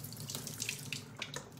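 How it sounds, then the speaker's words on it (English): Soaking water runs and drains from a sink in a steady, continuous rush with splashy running-water texture, fairly close and alone with no talk. "So now I'm gonna get rid of all this water that's in here now, okay? So we're gonna drain it,"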